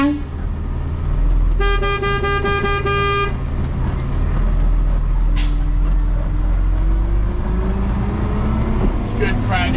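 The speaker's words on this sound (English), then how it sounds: "that's why I beeped the horn right there" An electric garbage truck sounds its horn once in a loud, close, steady honk lasting under two seconds, over a constant low vehicle hum.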